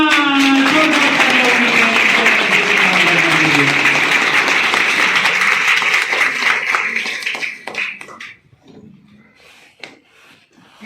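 A crowd claps loudly and continuously for several seconds at a motivational seminar at an inter college, with a faint tone fading underneath, before the applause thins out and dies away.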